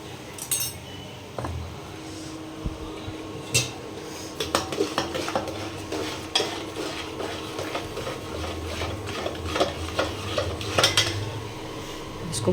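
A spoon scrapes and clinks against a pan in irregular strokes as masala is stirred and fried, with a soft sizzling bed beneath.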